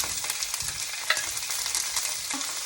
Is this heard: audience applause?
no